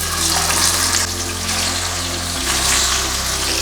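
Salmon frying in coconut oil in a pan, a loud, continuous, close hiss and crackle of hot fat that runs steadily throughout with no voices.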